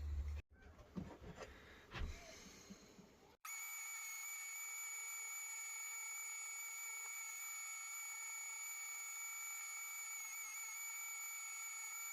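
A blackthorn slingshot is sanded and band grooves are cut with a rotary tool, heard as a thin, steady high-pitched whine after a few seconds of scattered handling clatter.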